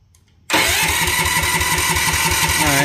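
A 212cc engine on a John Deere 110 lawn tractor cranks and fires abruptly, settling into a loud, steady running drone with a rhythmic pulse, close by, with no talk.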